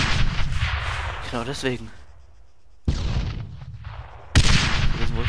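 Video game gunfire from Arma 3 comes as loud, booming shots and blasts that cut off abruptly, with a quieter gap in the middle. Someone speaks German briefly over the combat.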